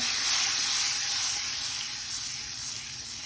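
Butter melts in a pan for a buffalo wing sauce, giving a steady, close, fairly loud sizzle and hiss that holds throughout and eases off slightly toward the end, with no voice over it.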